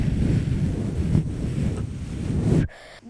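Heavy wind buffeting a Rode VideoMicro fitted with its supplied foam windscreen outdoors, a loud continuous low rumble for over two seconds before it abruptly drops away near the end.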